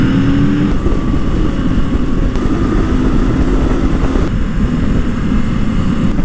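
Honda CL500 motorcycle riding through the Scottish Highlands, its engine a steady close drone mixed with rushing wind noise, holding an even level for several seconds with no speech.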